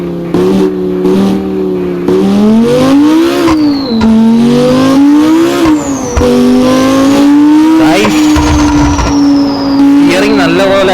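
A police Lamborghini in a driving video game revs loudly and continuously, its engine pitch climbing and dropping through repeated gear changes, with occasional tire squeal.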